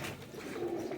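Teddy breed pigeons give a faint, brief coo, low and muffled, set against steady background hiss.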